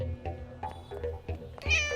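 Cat meowing indoors in a Tamil thriller film scene, a couple of short meows over a low background hum, ending in a louder drawn-out cry.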